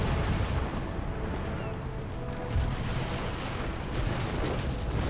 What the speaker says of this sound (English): fire a round shot if that war galleon wants to be difficult about it